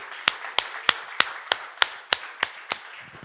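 Nine sharp, evenly spaced claps ring out at a slow, steady beat during a church sermon, close and clear with little else around them.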